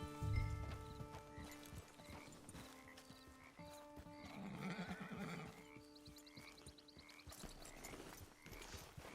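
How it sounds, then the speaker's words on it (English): Hooves clip-clop from a horse in the Red Dead Redemption 2 video game, with a whinny and game ambience and music layered over the steady footfalls. "Get your horse."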